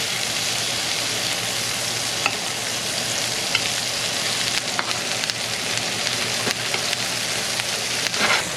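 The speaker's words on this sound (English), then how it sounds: "Gonna lower that down, add some butter, a little bit of thyme. We'll just baste it just a little bit." Trout frying in butter with thyme in a pan, a steady loud sizzle that runs without a break, with faint small clicks and pops while the fish is basted.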